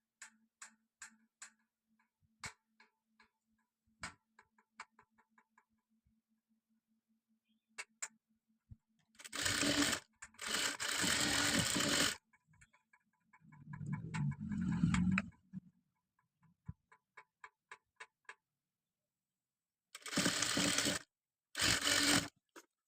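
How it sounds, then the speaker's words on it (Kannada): Domestic sewing machine stitching the lace-trimmed shoulder seam of a long designer gown: quiet stretches of slow ticking needle strokes, broken by several loud, sustained bursts of rapid running stitches, close and with no voices. "ನೋಡಿ ಈ ಥರ ಇಟ್ಟು ಸ್ಟಿಚ್ ಮಾಡ್ಕೋಬೇಕು ಶೋಲ್ಡ್ರನ್ನ."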